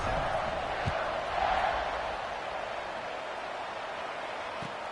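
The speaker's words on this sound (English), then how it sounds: "You think this crowd's going to get loud when their defense comes on the field?" A low, distant video game football stadium crowd murmur hums steadily, swelling briefly near the start before settling into a flat, constant roar.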